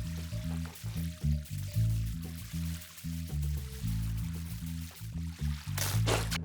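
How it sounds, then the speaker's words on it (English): In Minecraft, a water source flows toward a dug-out hole, giving a continuous pouring, trickling stream beneath game music with a brief splashy burst near the end. "there's another water source flowing toward a hole I made"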